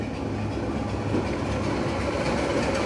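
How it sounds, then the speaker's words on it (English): A Class 25 diesel locomotive arrives at a heritage railway station during a diesel festival, a steady rolling rumble with faint clickety-clack of wheels, moderately loud and continuous, with no talking. "here we can see D7659, a Class 25, arriving back into Willerton on its return service to Minehead."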